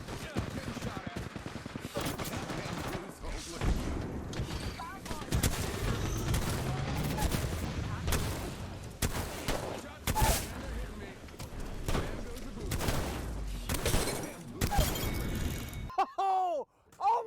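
Rapid gunfire in the video game Apex Legends, dense overlapping bursts and shots sustained through most of the stretch with loud impacts, a fast exchange ending in a brief pause, with voices talking over it.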